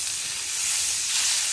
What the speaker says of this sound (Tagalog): Sugabin natin yung ating bawang agad.